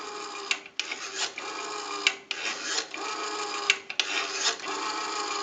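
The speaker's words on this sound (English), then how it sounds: "We have a nice smooth return on the rotary now." A Western Electric three-slot payphone's rotary dial spins back after each number, giving repeated ratcheting whirs and clicks in short bursts of about a second apiece, close up and fairly quiet, with no voice.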